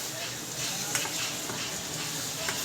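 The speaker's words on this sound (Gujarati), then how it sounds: "થોડીક વાર તેલમાં મસાલાને ભૂનવું." Spice masala sizzling in hot oil for besan masala barfi curry, stirred with a spoon; a steady soft frying hiss with a few light scrapes of the spoon.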